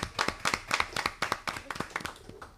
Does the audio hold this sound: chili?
no